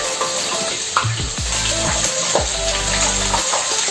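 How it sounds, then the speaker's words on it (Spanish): Beef loin sizzles in a hot frying pan while being stirred, giving a loud continuous crackle with scraping and a few low knocks of utensil against the pan. "ya está caliente esta nuestra sartén y estamos añadiendo lo que es la carne, nuestro lomo"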